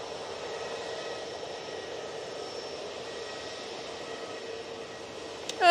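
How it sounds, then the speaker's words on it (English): EasyJet Airbus A320neo jet airliner at Manchester Airport, a steady distant engine hum with a faint whine, ending in a brief louder burst of nearby noise. "This is the A320 Neo going to Mahon"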